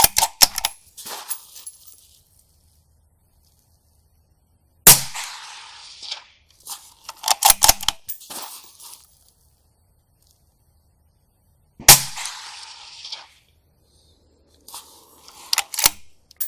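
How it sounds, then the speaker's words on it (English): Suppressed 5.56 rifle shots through a PTR Vent suppressor, heard as four sharp, fairly quiet reports separated by long silent gaps, each followed by brief clattering and mechanical rattle. "I love the sound of this silencer."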